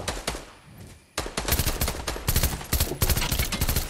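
Rapid video-game gunfire, loud bursts of repeated shots that drop briefly near the one-second mark and then resume in dense, close volleys.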